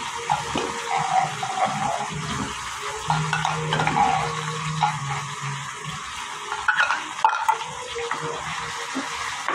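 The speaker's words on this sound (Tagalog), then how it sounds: "haluin natin" Ground beef frying in a pan for spaghetti sauce being stirred, steady sizzling with scraping and clinking of the utensil against the pan, close and moderately quiet, with no talking.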